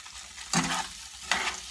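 Eggplant dropped into hot oil in the same pan just used for shrimp, giving two sharp bursts of sizzling with a steady frying hiss and faint stirring between them.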